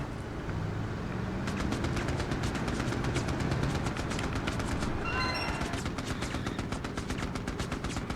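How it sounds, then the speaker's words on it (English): Cover fire in the war game Mercenaries: Playground of Destruction, set in North Korea: steady rapid machine-gun shots rattle over a low engine rumble, and a short whistling tone rises partway through. "Give him some cover fire, boys."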